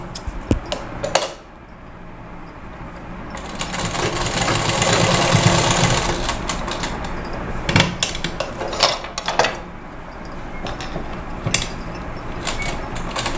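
A sewing machine stitches a net blouse with lace, running in a steady mechanical whir that swells and holds for a few seconds. Sharp clicks and short clattering taps break in before it and after it, all close and fairly loud.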